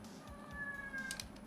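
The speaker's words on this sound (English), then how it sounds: "Apologies for my cat in the background" A pet cat gives a single drawn-out, fairly quiet meow in a room while someone sketches, set against a low background hum.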